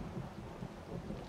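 Rolling thunder rumbles low and steady through a rainy storm in the survival game 7 Days To Die, a continuous dull roar with no voices.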